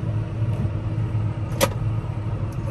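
A John Deere 6215R tractor rolls along at a steady low rumble, with an even engine drone throughout and one brief clank partway through.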